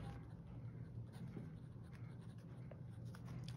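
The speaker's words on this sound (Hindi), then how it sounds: "तो हम यहाँ पे ब्रैकेट में लिखेंगे डिस्टेंस" A pen writes on paper during a geometry lesson, with faint, quick scratching strokes over a low steady background hum.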